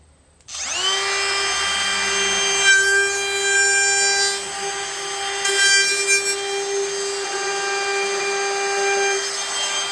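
A saw cuts steadily through a wood block clamped to a table, the cut starting abruptly and running as a continuous, close, loud rasping drone with a strong ringing tone throughout.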